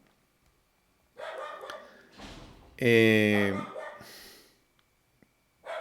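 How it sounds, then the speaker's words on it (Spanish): A dog barks nearby during a sermon on Galatians, producing one loud, harmonic bark with softer noises before and after it, and a man briefly utters a filler sound. "estoy tratando de determinar por qué mi perro está ladrando"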